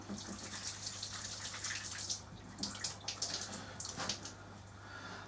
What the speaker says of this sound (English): Just wash my hands quickly.